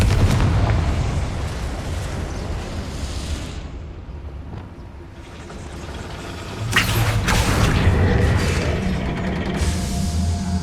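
A Confringo fire spell blasts in Hogwarts Legacy, a rumbling explosive boom over a dense low roar that fades, then a second loud crackling burst swells and lingers, with no voices.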